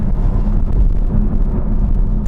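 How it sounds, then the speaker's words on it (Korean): Steady low rumble with a faint whir beneath from a BMW i3 120Ah electric car motor, continuous and fairly loud throughout, no voices. "이렇게 모터 돌아가는 소리는"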